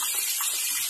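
Urad dal being rinsed in water for dosa batter, a steady close splashing and sloshing wash with no talk.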